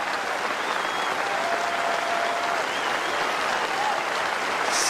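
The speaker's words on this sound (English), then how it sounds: "What a wonderful ovation" A cricket crowd in Wellington stands in a sustained ovation for New Zealand captain Brendon McCullum's triple century in the 2014 Test against India. The dense, continuous applause is loud and even throughout, with no talk over it.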